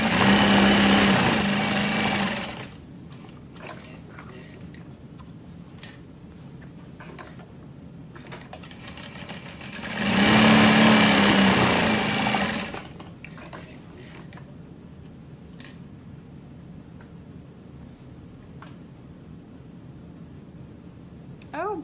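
A DU 1181N compound walking foot sewing machine stitching leather for a clutch wallet, two loud whirring bursts a few seconds each with quieter handling and clicks between them.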